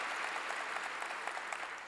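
A church congregation claps during a pastor's sermon, a brief burst of steady, dense applause at moderate distance, fairly soft, with no talk over it.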